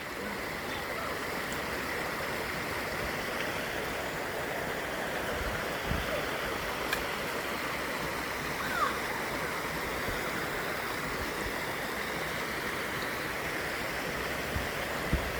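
River and waterfall at Amicalola Falls rush in a steady broadband roar, moderately distant and unbroken, with faint voices and small knocks now and then.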